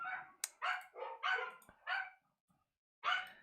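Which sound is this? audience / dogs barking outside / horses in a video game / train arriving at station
dogs barking outside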